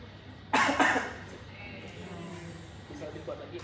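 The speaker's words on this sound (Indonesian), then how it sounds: "Sekarang yang keempat, batuk 2 kali berturut-turut." A patient doing an airway-clearing exercise gives one sharp, loud cough followed by a weaker second one, close by, with faint background murmur and quiet talk afterward.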